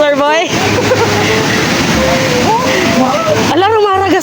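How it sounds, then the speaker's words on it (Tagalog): Rushing waterfall water roars continuously under excited voices, a steady broad wash of spray with people talking and breathing hard over it. "Tunog na ng tubig."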